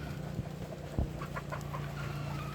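A breeding rooster gives a few soft, short clucks, close by and moderately quiet, over a steady background of farmyard noise.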